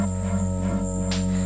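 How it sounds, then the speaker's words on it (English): Evening insects such as crickets: a steady, layered chorus of continuous buzzing and trilling tones, fairly loud and close, with no speech. "just away from the evening insects"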